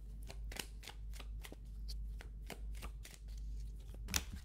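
Tarot cards are shuffled close up in quiet, soft rapid riffles and flutters in a steady rhythm, with a sharper slap near the end and low hum beneath.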